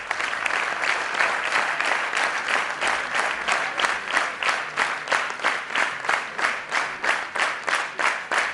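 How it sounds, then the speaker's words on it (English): An audience at an opening ceremony claps in loud, close, rhythmic unison, with regular beats repeating steadily for the whole stretch and nothing else heard. "Please welcome all the audience, please applaud"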